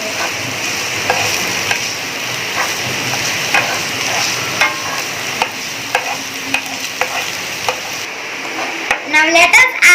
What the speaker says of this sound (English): Now we'll add the chopped onion. Till that become brownish,